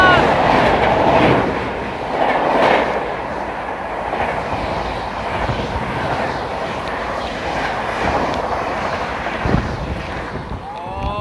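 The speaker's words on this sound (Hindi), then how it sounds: "overtaking Amrit Bharat in Firozabad" Aboard the Patna–New Delhi Amrit Bharat Express at Firozabad while the Kanpur–New Delhi Shatabdi overtakes, a steady loud rolling rumble and wheel clatter mixes with wind rush throughout.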